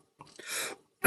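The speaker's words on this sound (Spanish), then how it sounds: "me dio un ataque como de tos" Coughing fit from a lecturer: a short breathy throat sound, a longer rasping exhale, then a sharp loud cough burst at the end, close and alone.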